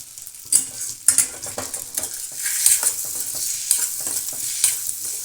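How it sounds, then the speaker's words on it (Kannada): Egg fries in a pan with chili powder added, a bright sizzle broken by repeated clinks and scrapes of a spatula stirring against the metal, close and fairly loud. "ಸ್ವಲ್ಪ ಒಂದು ಮೂವತ್ತು ಸೆಕೆಂಡ್ ಫ್ರೈ ಮಾಡ್ಕೊಳ್ಳೋಣ ಸ್ವಲ್ಪ ಖಾರದ ಪುಡಿನೂ ಹಾಕ್ತಾಯಿದ್ದೀನಿ"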